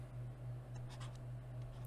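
Pen scratching on paper while a vector equation is written by hand, faint and steady strokes over a low electrical hum.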